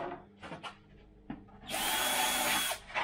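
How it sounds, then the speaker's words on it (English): A 6mm drill bit bores out the end of a 3D-printed part meant to hold a carbon fibre tube, a loud steady whine and grinding for about a second after a few soft handling knocks. "this is a 6mm drill bit, and I'm just going to clear out the ends again"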